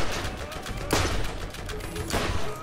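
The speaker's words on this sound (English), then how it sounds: "I got to keep firing." Gunfire in the Borderlands shooter, a few loud, close shots at irregular intervals over steady game background sound, with a faint voice at times.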